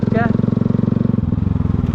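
A Yamaha R-125 motorcycle engine putters in a steady rhythmic idle, a brief voice speaking over it near the start, the engine tone shifting lower partway through.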